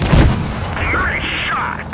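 A tank shell strikes and punches through enemy armor in World of Tanks Blitz: a loud, close boom at the start, then a dense, ringing rumble that sustains and slowly fades.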